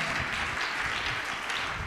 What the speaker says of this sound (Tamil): நல்லா கைத்தட்டி தேவனை மகிமைப்படுத்துங்க